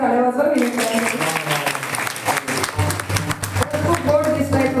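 An audience at a kirtan applauds in a dense, sustained burst of hand clapping, with voices mixed into the crowd noise.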